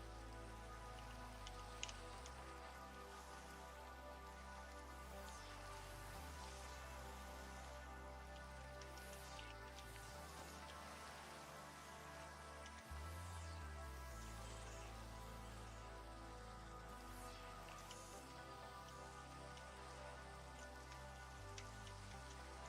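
Steady rain from Minecraft, a soft, even hiss of falling drops that runs throughout with no talk, and a faint low drone underneath.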